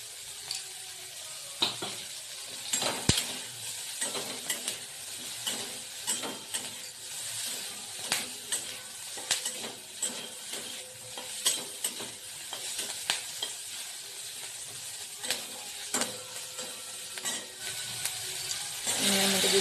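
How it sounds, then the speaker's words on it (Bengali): Ingredients for kadai paneer fry lightly in a pan with a steady close sizzle, broken by frequent sharp clicks and scrapes of stirring throughout. "হালকা একটু ভেজে নেব।"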